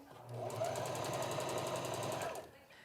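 A sewing machine runs in one steady burst, stitching fabric for a home-sewn boatneck top with a fast even mechanical rattle, close and loud, then stops abruptly.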